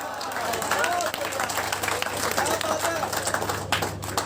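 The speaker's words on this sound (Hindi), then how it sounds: "मेरा कोई शेर अच्छा लगे तो तालियां बजाना।" An audience claps at an open mic poetry evening by the Chenab, a dense steady wash of applause lasting throughout, loud and close.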